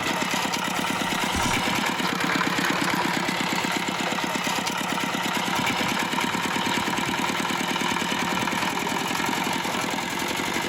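A small ZIRKA walk-behind cultivator engine runs continuously while tilling narrow rows between pumpkins, a steady, rapid mechanical putter, loud and close throughout.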